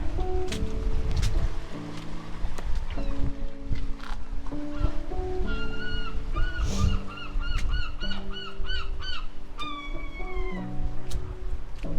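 Gulls calling repeatedly in high, wavering cries around a harbour beside a harbour wall and cliff face, heard over steady waterside background noise, with a honking, goose-like quality in some calls.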